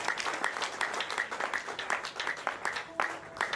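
A church congregation breaks into steady, dense applause that fills the room evenly for a few seconds, with a faint voice in the background.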